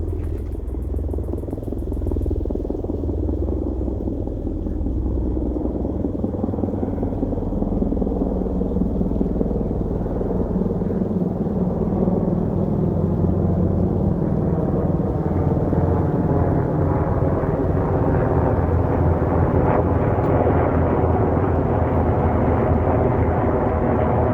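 Loud low thumping rotor noise rumbles continuously as Black Hawk helicopters pass overhead at night, the deep pulsing drone shifting in pitch as they move.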